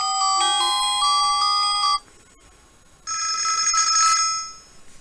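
Two ringtones from a Clap RockClip big-button flip mobile phone, played close and clear: a stepped electronic melody for about two seconds, a short pause, then a brighter buzzing trill that fades out.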